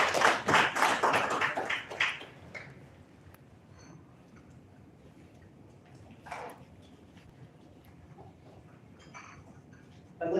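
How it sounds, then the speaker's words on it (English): Audience applause for a conference panel on Indonesia as a sustainable investment superpower, a burst of clapping lasting about two seconds that fades into a quiet room with a few scattered taps. "Let's have a round of applause for our panel."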